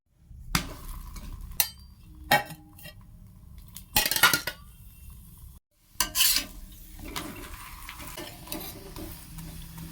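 Paratha cooking on a hot tawa, with intermittent scraping and clatter of a spatula against the griddle and a faint sizzle underneath, broken by brief pauses.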